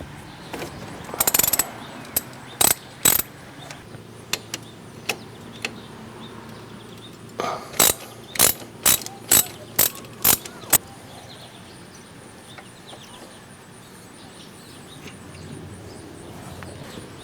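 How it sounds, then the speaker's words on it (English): Ratchet loosening brake caliper bolts on a 2002 Saturn SL sedan during a front brake pad job: bursts of sharp clicking, a cluster early on and a steady run of about a dozen clicks later, close and fairly loud with quiet between. "Next, I'm going to use a ratchet to loosen the bolts."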